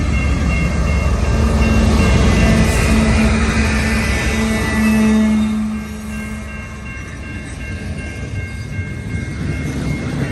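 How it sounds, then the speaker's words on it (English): A long freight train pulled by two locomotives, one a BC Rail unit, hauls 137 cars past, rolling close and loud with a rumble, steady wheel clatter and a short horn tone, then easing slightly. "These two units were both pulling 137 rail cars."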